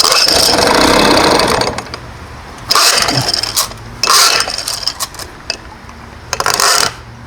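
A 1980 Evinrude 4.5hp two-stroke outboard motor sputtering in uneven bursts, repeatedly catching with a buzzy rattling roar for a second or so and then dying back, close and loud with quieter mechanical clatter between.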